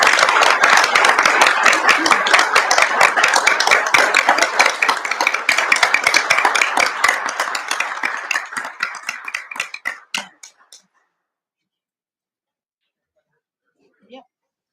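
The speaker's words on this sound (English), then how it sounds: "Another round of applause." Attendees at a township board of supervisors meeting give a round of applause, loud dense clapping that carries steadily for about ten seconds, thins into scattered claps and stops, followed by a brief bit of talk.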